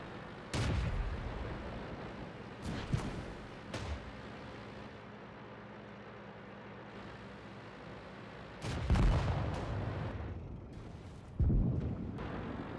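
Artillery fire in the World of Tanks video game, several heavy booming blasts with long rumbling tails spaced seconds apart over a low steady battlefield hum, no voices.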